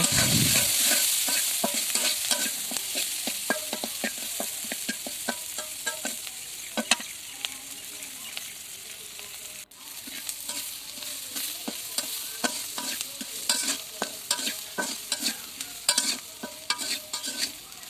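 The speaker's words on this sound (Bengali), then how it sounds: "এবার উস্তেগুলো দিয়ে সব কিছু একটু ভালো করে হালকা পোড়া পোড়া করে ভেজে নেব" Boiled bitter gourd (ucche) fries with onion and garlic in a pan: a continuous close sizzle under rapid, repeated scraping and tapping of a spatula stirring, growing busier toward the end.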